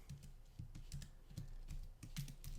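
Computer keyboard typing in a steady run of light, close clicking keystrokes with small pauses, no one talking.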